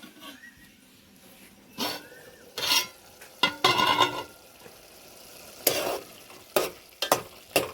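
Bottle gourd cooks in hot oil with spices in a pan, with a low steady sizzle under bursts of scraping as a spoon stirs through the pieces several times at close range.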